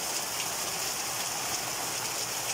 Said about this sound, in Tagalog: Ganun po kalakas ang ulan guys.